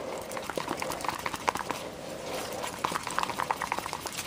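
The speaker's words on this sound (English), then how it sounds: "You can see even as I'm mixing it, it's starting to actually expand a little and react" Casting foam for a soft foam head is stirred in a pot, making a continuous wet, squelchy churning with steady clicking and sloshing of the mix, close and even in level throughout.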